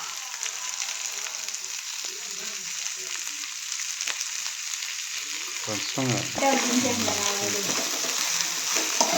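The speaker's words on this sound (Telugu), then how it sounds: "ఎర్రగడ్డలు బాగా వేయించుకోవాలి. దీంతో కొన్ని ఎండుమిరపకాయలు వేసుకోవాలి గైస్." Onions and dried red chillies frying in oil in a pan, a steady close sizzle, with stirring clatter and scraping growing louder in the second half, no talking.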